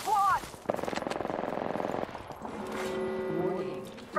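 Rapid automatic gunfire in the game Lifeline, a steady burst of evenly spaced shots lasting over a second, followed by ambient game noise with a voice talking over it.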